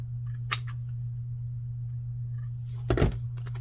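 Scissors trim excess blue paper from a junk-journal card, giving two crisp snips roughly two and a half seconds apart over a constant low electrical hum.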